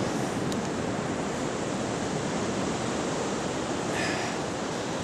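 Steady ocean surf washing onto a San Francisco beach, a loud continuous broadband roar with no distinct wave breaks, filling the whole stretch without any talk.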